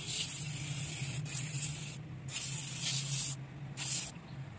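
Aim foam spray car cleaner hisses steadily onto a car dashboard in a continuous spray with a few brief pauses, close and fairly loud, with no voices.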